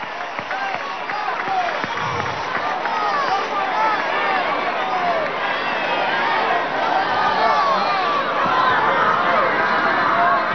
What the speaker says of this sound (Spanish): Vamos a darle un aplauso a esa mujer